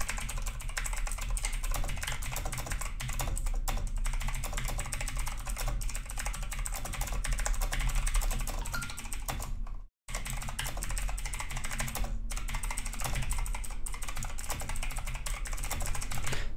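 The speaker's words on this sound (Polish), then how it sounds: "jak moja klawiatura sobie tutaj ładnie pisze i jak ona klika" Dense, rapid clacking of keys on a computer keyboard, close and continuous, with a brief pause midway before the fast typing resumes.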